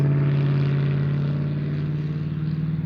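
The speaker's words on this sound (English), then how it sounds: "It's a nice engine." A mid-sized engine runs steadily up close, holding a strong low drone with a slight rhythmic pulse that swells a little toward the end, with no talking.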